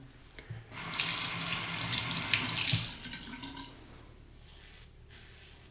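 Tap water runs into a sink as a safety razor is rinsed of stubble, a steady close splashing stream that swells for a couple of seconds, then eases to a quieter trickle.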